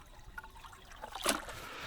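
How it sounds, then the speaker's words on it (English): Faint water trickling and splashing into a container holding caught yabbies, with one brief louder splash near the middle against quiet outdoor background. "So I'll put some water in here."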